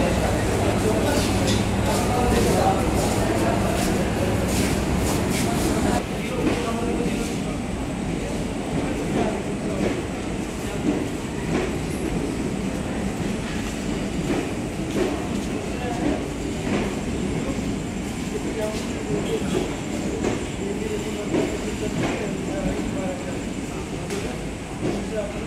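Steady railway station ambience in Ayodhya, India: a continuous low rumble of a train with a murmur of voices and a busy crowd throughout, loudest at the start.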